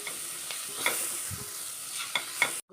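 Tomatoes are stirred in a cooking pan for a Kerala ash gourd theeyal, giving a low steady sizzle with a few soft scraping stir strokes before the sound cuts off abruptly.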